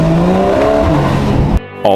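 A Mercedes-AMG GT accelerating hard on an open mountain road, its engine loud and close with rising revs, then a sudden cut to near silence before the sound returns.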